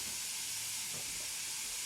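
Meat cooks in a pot, producing a continuous, even sizzle and hiss at moderate volume with no voices.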